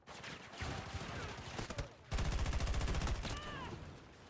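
Rapid gunfire in a video game, bursts of automatic shots crackling in quick succession, loud and close, with a shouting voice over the first part.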